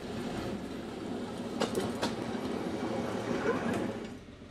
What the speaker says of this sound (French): Le locotracteur numéro 11 entre en gare de Pellevoisin